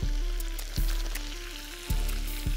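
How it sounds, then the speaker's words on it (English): Bacon frying in a pan outdoors in the woods, a quiet, crackling sizzle with periodic low thumps and buzzing hum as a camp stove or wind knocks at the mic, fairly faint overall. "So while your bacon cooks"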